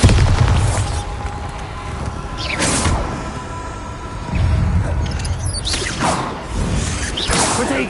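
Bombarda explosion spell in Hogwarts Legacy, with swishing whooshes followed by deep booming blasts, several bursts spread across the stretch amid game combat noise.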